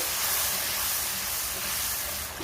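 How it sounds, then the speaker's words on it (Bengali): Spice paste mixed with sour yogurt fries in a pan for a sea bhola fish curry, giving a steady, close, even hiss with no pauses and no talking. "মশলাটাকে খুব ভালোভাবে কষিয়ে নেব"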